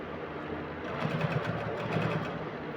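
Close up, a sewing machine stitches a ready-made bra cup onto a corset dress along a curve, its fast, steady mechanical whirr running for a few seconds with slight speed changes.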